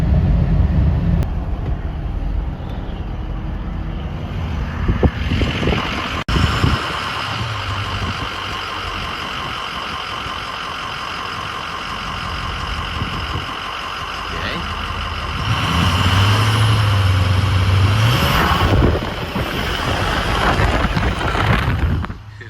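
Ford 6.0 Powerstroke diesel truck with 3.73 gears on the road, its engine droning steadily loud throughout, then rising and swelling in a stronger revving surge near the end, with no talk over it.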